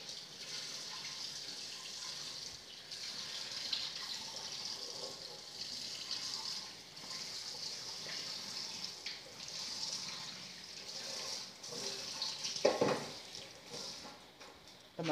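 Cut potato pieces for french fries are washed under a running kitchen tap, a steady bright stream of water with occasional clatter and sloshing as the pieces are moved, close and continuous with no talking.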